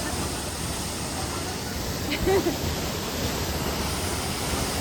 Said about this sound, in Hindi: अब पानी की आवाज़ इतनी ज़्यादा है